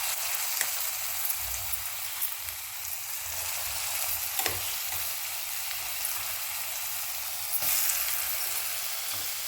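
Ground coriander paste with asafoetida frying and being stirred in oil for a pickle, a loud, steady close-up sizzle with occasional scraping stirs and pops, no voices.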